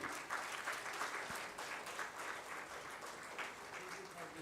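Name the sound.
applause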